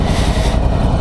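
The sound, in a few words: Ducati Multistrada 1100S air-cooled V-twin motorcycle engine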